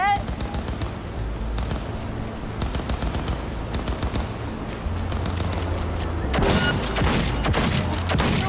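Gunfire from the video game Cyberpunk 2077 rattles in rapid automatic bursts over game music and effects, growing louder and denser toward the end.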